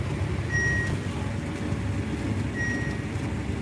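A combine harvester gives two short, sharp electronic beeps about two seconds apart after its auger is switched off, heard over a low steady machine hum.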